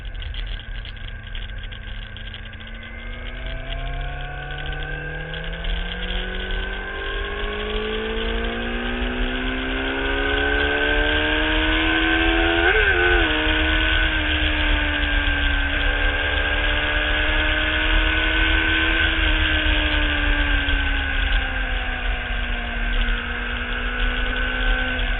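A Honda CBR600RR motorcycle is ridden, its engine droning steadily close to the microphone with rising and falling pitch through gear changes and throttle shifts, under heavy wind buffeting and with no talking.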